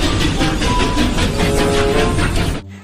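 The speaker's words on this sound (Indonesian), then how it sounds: "Kereta api uap teman-teman ya." A loud, steady rumbling chug with rhythmic pulses from a toy steam train runs continuously, then cuts off abruptly near the end.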